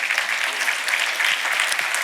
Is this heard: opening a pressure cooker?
no